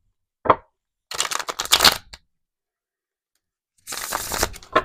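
Tarot cards being shuffled in quick riffling bursts, a short tap followed by two separate shuffles with a pause between, close and clear.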